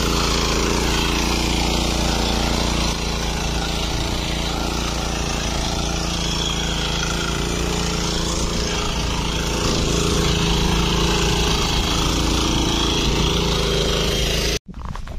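A power weeder engine fitted with tyres runs loud and steady at close range for nearly the whole stretch, a continuous dense drone that cuts off abruptly at the end.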